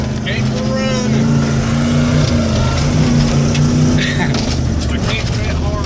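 The engine of a 1995 Ford F150 pickup with a bad alternator runs with a loud, steady droning rumble close by while people talk over it.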